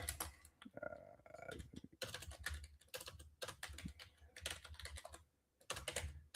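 Rapid typing on a computer keyboard during a live coding session, close and clear with irregular bursts of clicky keystrokes and a few short pauses, no voices.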